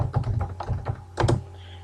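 Fingers type on a computer keyboard in a quick, uneven run of soft key thunks, ending in a slightly firmer burst of keystrokes, close and clear.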